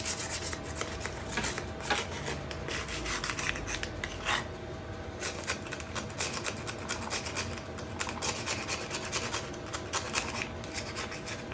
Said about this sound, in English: Trying to scrape as much of this off as possible because I don't know what's lead paint, what's not